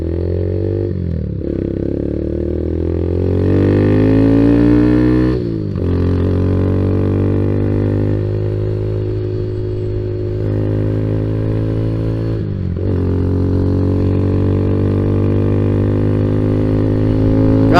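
A Honda Z125 motorcycle engine drones steadily and close throughout a ride, rising in pitch through each gear with brief dips at the shifts. The check engine light is on after a computer recall.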